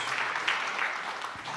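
Worshippers in a church service clap in praise of Jesus, a soft, even wash of many hands at a distance, steady and unbroken for a brief moment.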